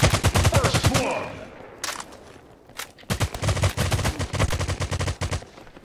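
Rapid bursts of gunfire from a browser first-person shooter, Crypto Shots, close and loud, in repeated volleys with a short lull in the middle before sustained automatic fire resumes.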